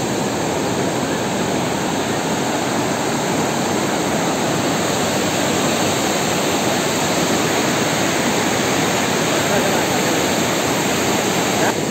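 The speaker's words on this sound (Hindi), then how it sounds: "इस नदी के पानी की कलकल आवाज़ आपको सुनाई देगी" Rushing river water roars continuously and loudly nearby, a dense, even wash of flowing sound with no pauses.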